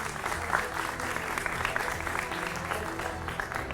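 Dense, continuous studio audience applause at a Hindi political TV talk show, welcoming a guest as he enters; steady and fairly close throughout, with a faint voice underneath.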